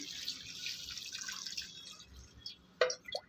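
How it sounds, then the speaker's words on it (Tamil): Soft trickling and splashing of water being poured into a cooking pot of goat trotters for paya, fairly quiet and close, ending with a few distinct drips and clinks. "இப்போ இதில் தண்ணி சேர்த்துக்கலாம்"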